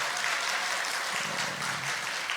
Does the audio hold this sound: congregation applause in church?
yes